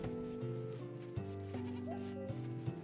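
Goats bleat in the medieval colony-building game Going Medieval, several overlapping wavering calls over a steady musical backdrop, fairly quiet.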